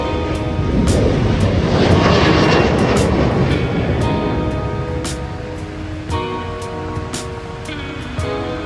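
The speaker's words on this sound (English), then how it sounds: "Soon our plane arrived, a JetBlue E190 that had just come from LaGuardia." A JetBlue Embraer E190 airliner arrives at the airport, its engines a loud, steady roar that swells over the first few seconds and then eases slightly, with no talking.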